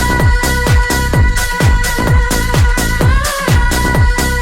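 A house track plays loud and full, with a driving four-on-the-floor kick, a bright looping synth hook and dense upper layers, no talking over it.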